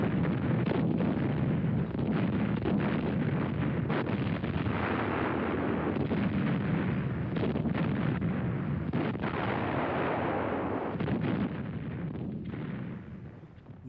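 German flak batteries fire in archive wartime footage, heard as a continuous dense roar of rumbling blasts and crackle that stays loud throughout before easing slightly at the end.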